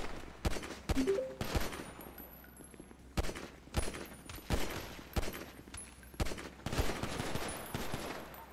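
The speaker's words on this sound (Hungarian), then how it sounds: "Embereket majd lövöldöznek ránk." Bursts of gunfire ring out in a Hungarian roleplay video game heist while a safe is being cracked, sharp shots coming in irregular volleys and clusters across the whole stretch, loud and close with no talk over them.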